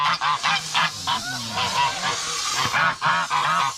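Vicious geese honking loudly and repeatedly in a noisy, overlapping racket, harsh calls in quick bursts close by with no pauses.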